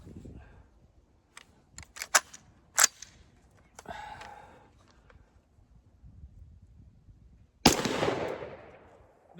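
Several sharp gunshots fired outdoors while testing a CVLIFE EagleFeather X solar multi-reticle red dot sight, scattered single reports with a louder burst near the end, no talk.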